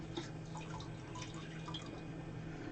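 Liquid is flushed through an airbrush, giving a steady, faint hiss and spatter with small dripping and bubbling sounds throughout and no voices.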